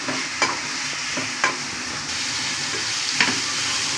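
A pizza topping mixture fries in a pan with a steady, close sizzle, while a spoon stirs and scrapes through it in a few distinct strokes spaced about a second or more apart.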